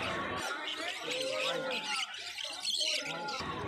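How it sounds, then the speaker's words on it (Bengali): Java sparrows and other caged birds at a busy Kolkata bird market, a dense chorus of close chirps and tweets with voices talking over it. "দেখো এখানে জাভা রয়েছে"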